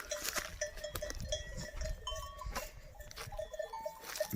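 Goats and sheep bleat from a crowded flock, with a clinking bell and scattered animal calls over a busy outdoor background.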